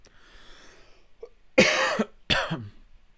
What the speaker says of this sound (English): now you're coughing